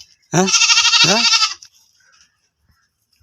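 Goats bleat nearby in a loud, wavering cry of about one second, with a short break midway, then fade into quiet.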